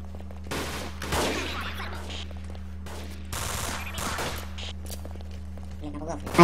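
Gunfire in the online shooter Ballistic during a clan war match, with bursts of shots over a steady hum while players talk loudly over it.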